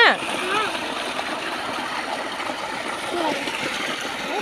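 Water rushes and splashes steadily at moderate volume as it flows into a farm field, a continuous flowing wash with no voices.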